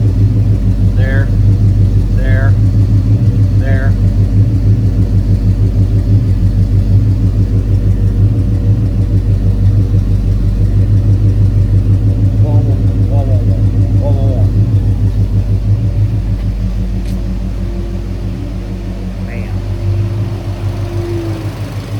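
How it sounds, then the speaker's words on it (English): A car engine runs at a steady idle with a loud, constant low rumble and the fine ticking of fuel injectors underneath; the overall level eases slightly in the last few seconds as the cooling fans shut off. "Really hear those injectors firing when the fans turn off."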